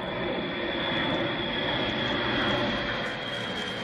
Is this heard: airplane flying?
yes